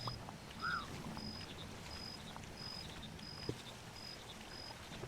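Steady rain falls in the cozy frog management game Mudborne, a soft continuous hiss with small soft chimes repeating at even intervals throughout.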